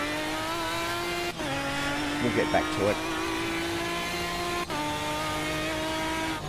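Race car with no ABS or traction control in Automobilista 2, a steady buzzing high-revving engine drone with sharp gear-shift dips, droning under a speaking voice.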